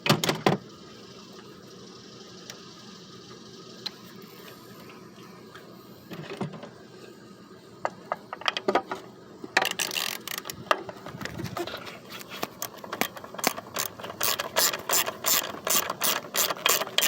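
Ratchet clicks tightening a bolt on the ignition coil of a 2007 PT Cruiser, starting with scattered faint clicks and building into rapid, loud bursts of close ratcheting near the end.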